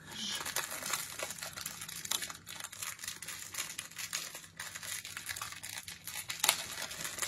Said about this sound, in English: I should have a pair of scissors here to open all these things rather than my teeth